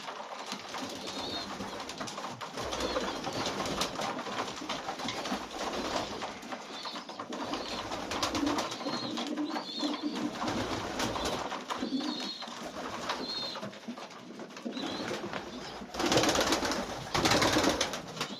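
Old Polish homing pigeons coo repeatedly in soft, rolling calls against a steady background hiss, with several overlapping voices and a brief flutter of wings.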